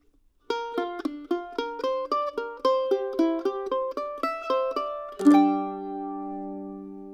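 A mandolin picks the second ending of a bluegrass tune as a quick run of bright, evenly spaced plucked notes, closing on a strummed chord that rings out, played solo and close.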